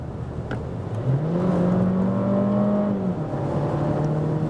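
A Skoda Kamiq's 150 hp engine in sport mode rises in pitch as it accelerates hard, a steady, close droning roar that climbs and holds before easing slightly.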